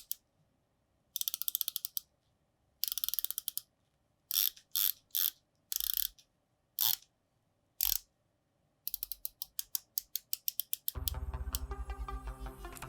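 A stainless steel Nordic Marine Instruments dive watch bezel turns in bursts of crisp, tinny ratcheting clicks, close and quiet, with short pauses between turns and a rapid run of clicks near the end.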